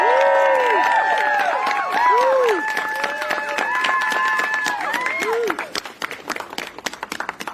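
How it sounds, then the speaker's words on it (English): A crowd at an outdoor rally for journalists claps and cheers, with loud voices and whoops over steady applause that breaks into sharper scattered claps toward the end. "can we actually just get a round of applause for them and all of the work that they're doing?"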